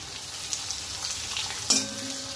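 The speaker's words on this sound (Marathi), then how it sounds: "तर त्याच्यामध्ये आपण कांदा टाकून घेऊया" Two lengthwise-sliced onions fry in hot oil with peanuts while being stirred, a steady close sizzle with a soft knock partway through and no voices.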